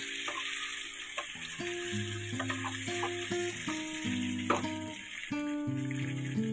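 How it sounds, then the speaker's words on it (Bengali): Chicken sizzles and crackles in a hot pan as it is stirred, with soft background music playing underneath. "দেখুন আমি কন্টিনিউ নাড়িয়ে যাচ্ছি"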